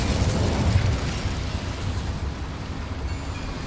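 An Incendio fire spell hitting a boiler in Hogwarts Legacy erupts as a loud, continuous fiery whoosh and rumble, strongest at the start and slowly easing while staying dense throughout, with no speech.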